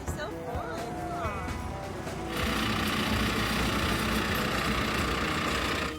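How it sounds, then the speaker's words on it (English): Tractor engine pulling a hayride at a pumpkin patch, a steady loud rumble that swells louder partway through, with crowd voices and talk mixed in. "we headed on to the other free attraction, which was the tractor ride."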